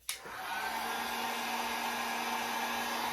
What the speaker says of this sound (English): So I'm just going to hit it with a dryer because I need it to dry to get to the next part of this project.